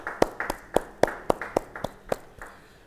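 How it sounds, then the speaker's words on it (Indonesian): About ten sharp claps in a steady, even rhythm, as if a crowd claps in unison, then they fade out. "beri tepuk tangan bagi dia."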